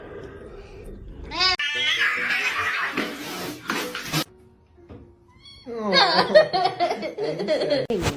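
A cat gives several drawn-out, wavering meows in two bursts separated by a quieter pause, close and fairly loud, with faint chuckling nearby.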